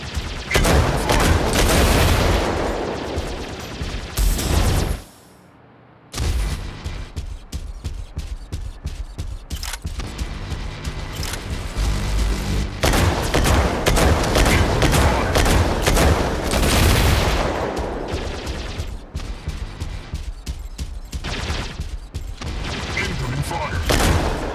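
Rapid gunfire and explosions from Mech Arena, a mech combat video game, fill a 2v2 match nearly continuously, with dense bursts and booms broken by one brief silent gap, plus intermittent game voice announcements.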